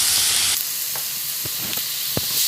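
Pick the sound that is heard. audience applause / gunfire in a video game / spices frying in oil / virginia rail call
spices frying in oil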